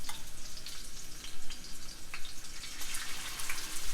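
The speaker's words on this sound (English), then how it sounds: "Now we're going to brown our meat before we put it in the boiling water." Meat browns and sears in a hot pan for sinigang with a steady, dense sizzle and crackle that runs throughout. The sound is close and even, with a few faint spatters and no talk.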